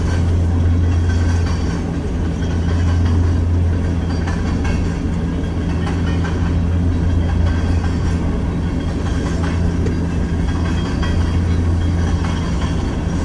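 An empty coal freight train rolls steadily past in flat open country, with a pushing locomotive at the rear; a continuous close rumble of wagons, low engine drone and faint rail clatter with no talk.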